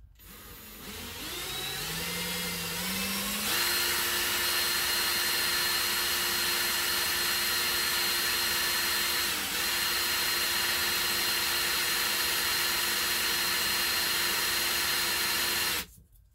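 Electric drill in forward spinning a sewing machine part for a Singer Featherweight restoration against fine-grit sandpaper, a loud steady high whine after a rising spin-up, running continuously before cutting off at the end.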